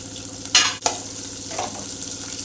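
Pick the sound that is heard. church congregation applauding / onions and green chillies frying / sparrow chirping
onions and green chillies frying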